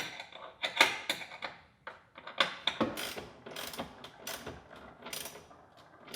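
Bolt with lock washer and flat washer being tightened through a bracket into a threaded nut while a JL Audio Stealthbox subwoofer is fitted in a Chevrolet Equinox: rapid, irregular ratcheting clicks and metallic taps, close and alone.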